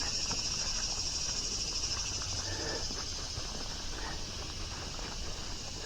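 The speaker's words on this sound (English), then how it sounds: "with these cicadas making noise like this" Cicadas in a forest keep up a steady, continuous high buzzing drone from start to finish, fairly loud and even, with faint rustling beneath and no voices.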